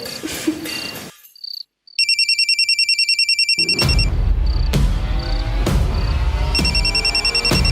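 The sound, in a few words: mobile phone ringing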